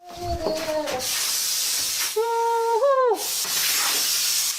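A continuous loud hiss of spray foam insulation being sprayed inside a shipping container fills the clip, interrupted by a few short tonal squeals and whines from nearby equipment.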